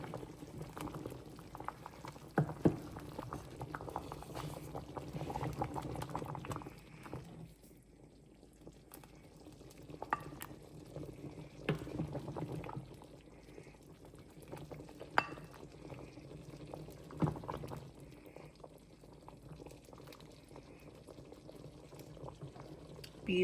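Stewed potatoes simmer in a thick, flour-thickened liquid with soft bubbling and gurgling, plus occasional stirring clinks and brief taps. The sounds are close and fairly quiet, with some background noise.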